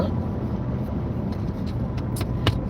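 Road traffic on a Tennessee road rumbles as a continuous broadband wash of engine and tyre noise, with a few brief clicks or rattles near the end and no clear voices.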